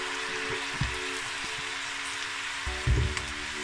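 Spaghetti lowered into a pan of frying bacon makes a steady, close, broadband sizzle, with brief louder crackling bursts near the start and again toward the end.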